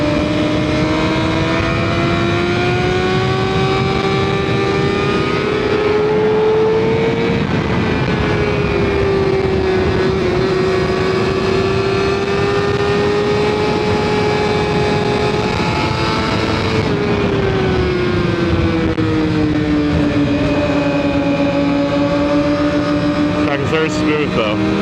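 A broken Honda CBR 600RR motorcycle rides hard at Roebling Road Raceway, its engine droning loud and continuous while the pitch rises and falls through shifts, with wind roar and talk underneath.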